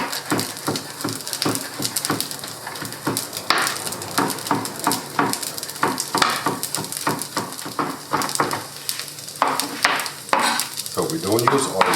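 Mushrooms and tofu fry in a dry, oil-free pan on a stove, with steady close sizzling broken by rapid scraping and stirring strokes and occasional sharper clatters of the utensil against the pan.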